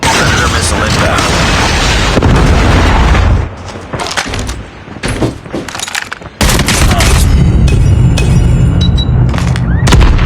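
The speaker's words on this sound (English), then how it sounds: "Predator missile inbound." A Predator missile strike in Call of Duty Mobile during a sniper-only clan war match lands as heavy booming blasts amid gunfire, loud and close, with a quieter lull in the middle before the roar resumes.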